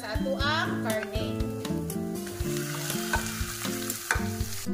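Ground pork stir-fries in a hot pan, sizzling loudly with repeated scraping and clattering strokes of a spatula, while a voice talks over it.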